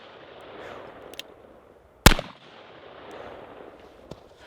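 A single heavy gunshot from a Magnum Research BFR revolver rings out sharp and loud, then quickly decays over a background of low outdoor noise.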